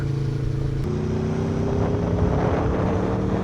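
A 2024 Aprilia Tuono 1100 Factory motorcycle engine, running a stock map, rises as the throttle is opened, its steady droning note climbing in pitch and holding close and loud with wind rush over the microphone.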